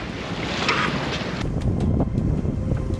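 Wind rushes across the microphone on a sailboat, with water sloshing against the hull in a constant, close roar and no speech.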